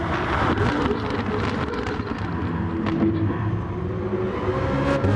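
A BMW M3 race car engine roars and fades with sharp exhaust pops and crackles scattered through, heard outdoors at Spa circuit with some wind.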